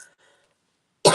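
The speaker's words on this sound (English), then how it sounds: "I have been coughing for like 10 minutes before we even started this live." A single short, loud cough bursts out at the end from a woman with a frog in her throat during a live online circle, following faint, quiet murmuring.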